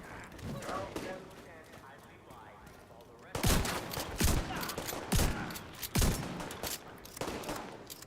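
Video game gunfire, soft scattered shots under a voice at first, then a run of loud, sharp bursts and rapid volleys spaced about a second apart.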